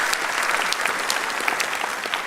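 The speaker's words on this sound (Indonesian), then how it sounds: "Berikan tepuk tangan kita untuk Tuhan kita." A church congregation claps together in dense, continuous applause that stays close and even for a couple of seconds.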